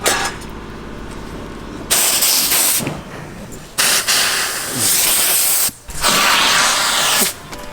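Loud bursts of hissing steam from an upholstery steamer used on car seats, three long blasts separated by short pauses, over a low mechanical hum.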